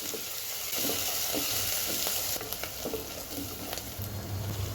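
Coriander, mint and curry leaves fry over a high flame, crackling and sizzling steadily while a spoon stirs them now and then, close and fairly loud with no talking.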